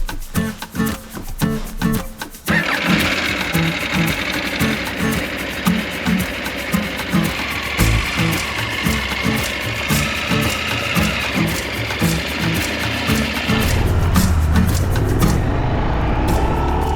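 2023 KTM 890 Adventure motorcycle ridden along the Shafer Trail near Moab, its engine a continuous close drone with rhythmic pulsing and rushing wind, rising after a brief quieter start.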